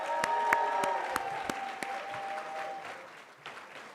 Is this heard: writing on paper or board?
no